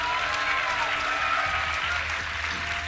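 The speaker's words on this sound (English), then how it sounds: "If you would like him to close this series off, give a cheer for OGS MC" A live crowd at a StarCraft tournament at DreamHack Summer breaks into applause and cheering, a dense, continuous wash of clapping heard at moderate distance with no break.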